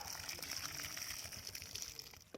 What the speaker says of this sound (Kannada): ಈ ಥರ ನೀರು ಹಾಕ್ತಾ ಬನ್ನಿ.